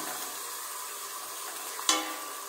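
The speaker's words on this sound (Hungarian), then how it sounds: "Most a pirítási fázis következik." Chili con carne fries in a pan during the browning stage, a steady close sizzle with a single sharp scrape of stirring near the end.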